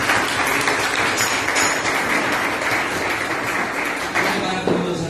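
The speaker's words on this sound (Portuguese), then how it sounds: "Vamos aplaudir o Senhor com alegria," A church congregation claps together during a morning communion service, a dense, steady wash of applause filling the room with scattered voices mixed in.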